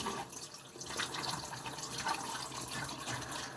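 Water running steadily over a coticle sharpening stone to rinse off the slurry, a continuous broadband splashing wash like a tap into a sink, close and alone.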